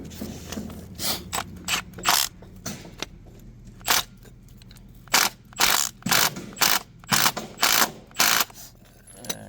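A ratchet tightens the bolt on a new transmission mount for a Nissan Versa, giving repeated close, crisp clicking bursts in an uneven rhythm over a low background hum.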